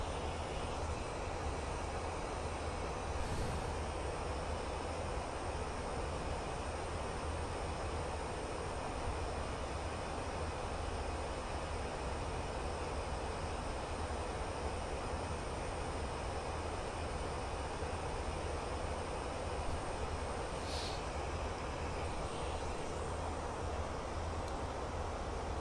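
A Fenix A320 airliner at cruise in Microsoft Flight Simulator, a steady broadband engine drone and airflow rumble that stays constant throughout, with a couple of faint brief clicks and no voices.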